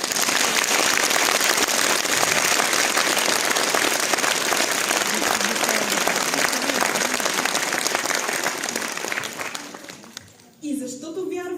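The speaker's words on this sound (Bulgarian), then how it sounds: "аплодисменти." Applause from the audience at a charity folk concert in Stara Zagora, a thick, continuous patter of clapping that fades out near the end before a brief sound returns.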